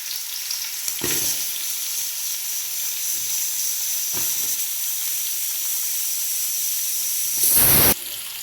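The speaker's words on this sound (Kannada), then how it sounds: "ಎಣ್ಣೆ ಕಾಯಿತು ಎಣ್ಣೆ ಕಾಯಿತು ಆನಿಯನ್ ಹಾಕ್ತಾ ಇದ್ದೀನಿ" Chopped onion fries in hot oil for a homemade mutton curry, giving a steady close sizzle and hiss, broken by a few stirring clacks and a louder burst of spitting steam near the end.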